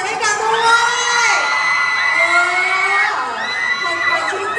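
Fans at a mall concert in Korat shout, whoop and cheer loudly, with high excited voices overlapping in a dense crowd roar that swells and stays close throughout.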